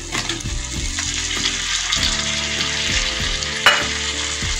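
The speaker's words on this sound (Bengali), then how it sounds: "এবার এতে দেবো ভেজে রাখা আলু" Fried potatoes go into sizzling masala in a pan for a prawn curry, with loud continuous frying and rhythmic scraping stir strokes close by.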